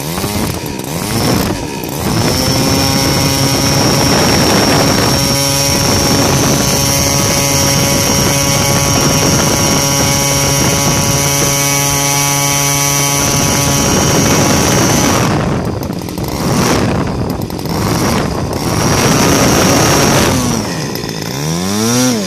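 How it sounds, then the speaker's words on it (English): An Evolution 26GX gas model engine fitted with CH CDI dual-magnet ignition runs steadily at close range, a loud sustained buzzing drone that holds through most of the run, then dips and surges as the throttle changes near the end. "So engine, it's running and idling around"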